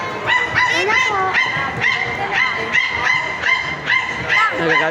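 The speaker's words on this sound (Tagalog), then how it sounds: "Nagagalit na po yung aso." An angry dog barks and yips in quick repeated bursts with whimpering tones, close and loud over a noisy background that sounds like a fair or carnival ride.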